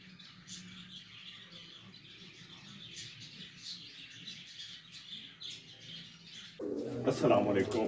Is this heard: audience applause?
no